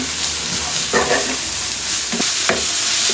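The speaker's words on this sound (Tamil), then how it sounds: "இந்த வெட்டி வச்ச ஃபைன் சாப்டு ஆனியன் சேர்த்துக்கலாம்." Finely chopped onion with a sprig of curry leaves sizzles steadily in hot oil, a broadband frying hiss broken by a few stirring scrapes and clinks; no voices.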